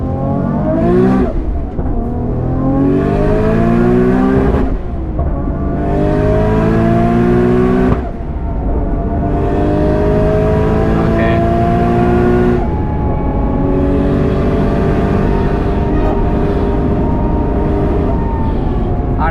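An 850hp Nissan Skyline R34 GT-R V-Spec accelerates hard on the Nürburgring, its engine note climbing through the revs in repeated surges with brief dips at each gear change, loud and sustained from inside the car.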